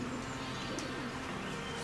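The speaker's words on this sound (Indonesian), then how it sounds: "Tetapi dari mana saja ya burung-burung ini datang?" Pigeon-like birds coo softly in the background of a theatre performance, making a few faint, low calls over quiet surroundings.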